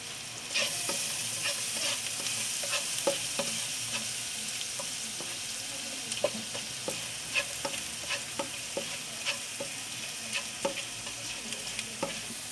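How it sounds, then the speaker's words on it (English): Garlic fries in hot oil for a broccoli stir fry in garlic oyster sauce, a steady sizzle running throughout while a utensil stirs it, scraping and clicking against the pan in frequent irregular knocks. No talking. "I'm gonna be putting the garlic and just cook it for a bit."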